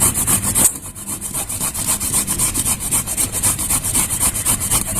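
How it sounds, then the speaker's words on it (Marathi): Ripe papaya being grated by hand for halwa, a steady rapid rasping scrape repeated in quick even strokes, close and fairly loud, with a brief pause near the start. "आता सगळी पपई आपण अशीच किसून घेऊया"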